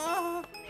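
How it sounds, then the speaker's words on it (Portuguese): A cartoon bell chimes to mark the end of listening time in a kids' animated drama, a bright ringing tone that sustains briefly, then fades. "Já tocou o meu sino de tempo de escuta."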